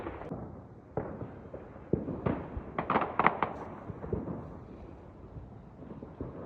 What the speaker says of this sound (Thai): เขาก็จุดพลุกันทั่วไปหมดเลยนะ